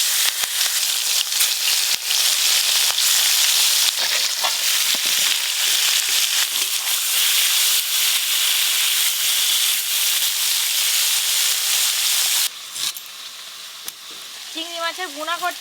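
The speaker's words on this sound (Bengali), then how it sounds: "আগে বড় সাইজের চিংড়ি মাছগুলো ভেজে নেব" Large prawns fry in a pan with a loud, steady sizzle and crackle throughout, easing briefly near the end as stirring clinks break through, with no talking.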